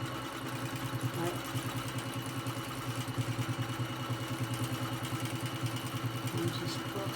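A sewing machine quilts down seams over fusible grid interfacing, a fast, even mechanical chatter running continuously at moderate volume.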